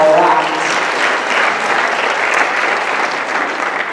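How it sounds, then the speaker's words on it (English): An audience claps loudly and steadily, a dense wash of applause that fades slightly toward the end. "So give them a big round of applause"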